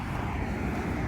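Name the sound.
cars passing on a nearby road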